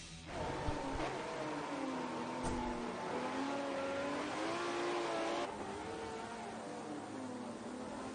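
A Ferrari race car laps Silverstone in a racing-game broadcast, its engine note rising and shifting through gears at moderate distance, a steady revving drone with other cars faintly underneath.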